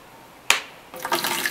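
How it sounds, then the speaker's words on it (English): Supernatant water is transferred between tanks at an effluent treatment plant: a sharp knock, then a rushing, splashing flow of water that starts abruptly and continues. "We are transferring the supernatant."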